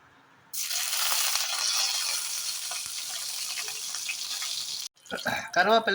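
Curry leaves dropped into hot oil for green bean pulao, with whole spices already in the pan, set off a sudden loud sizzling crackle that holds steady for several seconds before a voice speaks.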